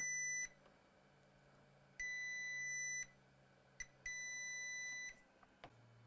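A multimeter in diode mode beeps while probing shorted capacitors on an A1932 MacBook Air logic board: a high, clear tone sounding in several separate bursts of different lengths, with a quick blip between them, in a quiet room.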